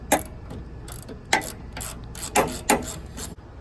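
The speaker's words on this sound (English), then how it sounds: "So now you just gotta tighten this down. Get it nice and snug." A hand ratchet clicks in short bursts while tightening a bolt on a riding mower's steering alignment, several close, distinct ratcheting strokes separated by brief pauses.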